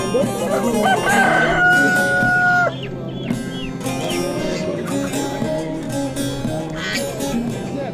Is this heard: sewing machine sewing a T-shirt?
no